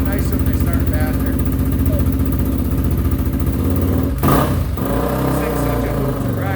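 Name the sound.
Honda XR250 motorcycle engine running after kick start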